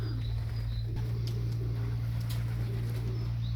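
Domestic pigeons coo softly around a backyard loft built of polycarbonate: a few low, muffled coos sit under a loud, steady low hum, with faint chirps in the background and no talking.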